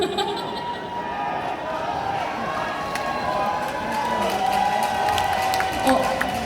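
A crowd at an outdoor song festival celebration concert in Chungju cheers and shouts during an encore, a dense, continuous roar of voices with scattered whoops and some talk mixed in.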